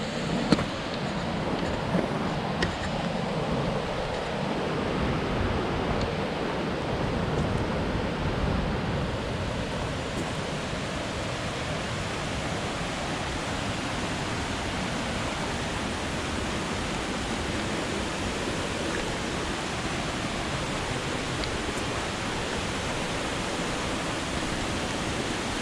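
Rushing water from a waterfall in the New River Gorge of West Virginia, a steady, dense roar that holds constant throughout, fairly close and without any voices.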